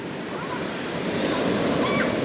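Ocean waves wash onto a Liberian shore in a steady, loud roar of surf, with wind buffeting the microphone and swelling slightly toward the end.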